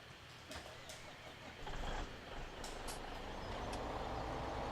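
A truck in the Farming Simulator 17 video game drives along with a faint, steady engine drone, with a few light clicks and knocks over it and no talk.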